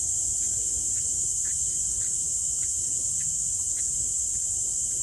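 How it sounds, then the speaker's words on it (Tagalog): Crickets chirp steadily in a mangrove park on a Saturday morning, a dense, continuous high-pitched trill holding at even loudness throughout, with faint background rumble beneath and no voices. "Ang dami mga kuliglig."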